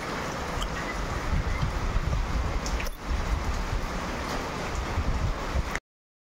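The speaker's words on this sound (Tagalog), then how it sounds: "malakas pa rin ang ulan dito yan sa Pangasinan" Heavy rain and gusting wind roar steadily during a typhoon in Pangasinan, a dense, continuous wash of noise with no voices, cutting off abruptly at the end.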